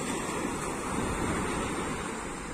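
Sea waves wash onto the beach at a Turkish resort, with a continuous broad roar of surf and some wind buffeting the microphone. There is no talk.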